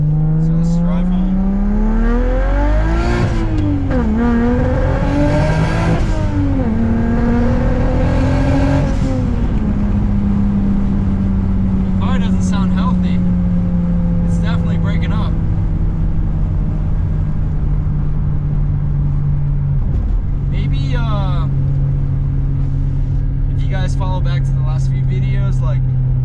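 A BMW 335i drift car cruises with the windows up, its engine droning steadily inside the cabin, rising and falling in pitch with the throttle, while someone talks over it throughout.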